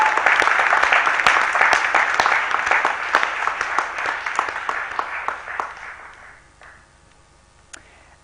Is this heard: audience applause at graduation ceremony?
yes